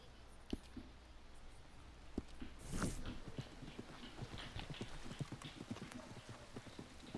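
Horse hooves clip-clop in Red Dead Redemption 2, a steady run of soft, fairly faint thuds with one brief louder burst of noise partway through.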